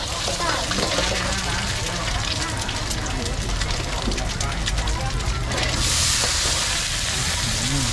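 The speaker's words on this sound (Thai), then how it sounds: "ไฟลุกท่วมกระทะเลยนะครับ" Loud, steady sizzling and frying with a hissing roar from a hot wok as pad thai noodles stir-fry amid flames engulfing the pan, voices talking over it, and a brief surge of hiss near the end.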